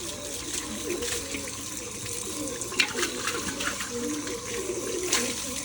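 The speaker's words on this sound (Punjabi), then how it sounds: "ਅੰਦਰੋਂ ਵੀ ਪਾਣੀ ਮਾਰ ਕੇ ਚੰਗੀ ਤਰ੍ਹਾਂ ਸਾਫ਼ ਕਰ ਲੈਣਾ" Water splashes and sprays steadily inside a container being rinsed clean, a continuous washing rush with a few sharper splashes, close and moderately loud throughout.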